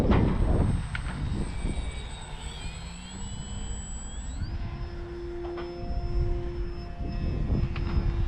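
An X-Fly Glastar V2 RC plane flies overhead, its motor a thin whine that bends upward and shifts pitch as it passes, over steady low wind rumble outdoors.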